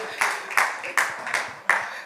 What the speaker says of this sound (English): Let's clap me up.